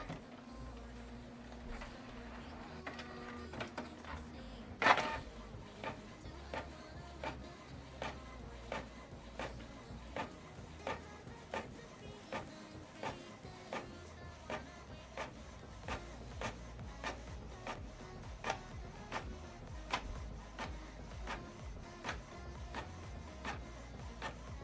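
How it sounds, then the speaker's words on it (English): An office printer runs steadily, feeding and printing a document with a rhythmic series of mechanical clicks and whirs, a loud thump near the start, then regular repeating strokes throughout, with no voices. "So now this document is going to print out from this printer."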